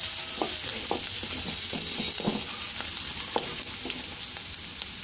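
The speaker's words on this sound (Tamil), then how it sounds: "பெரிய வெங்காயம் 1 ஆட் பண்ணிக்கோங்க. ரெண்டு நிமிஷம் போல் வதக்கிக்கோங்க" Dried red chilies and onion sautéing in a pan for radish chutney, with a constant hissing sizzle and scattered light stirring taps, close and even with no voices.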